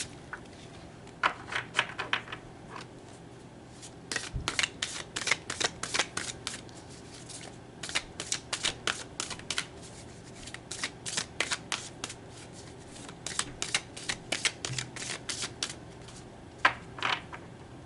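Deck of cards shuffled for a card reading, with repeated riffling bursts separated by short pauses, close and crisp against a quiet room.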